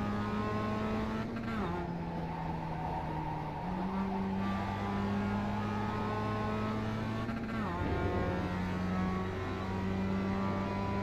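A Mazda MX-5 race car in iRacing pulls away from the pits at Okayama, its engine droning steadily and close. Pitch climbs through the gears and drops back at each shift, with a couple of brief dips before it revs up again.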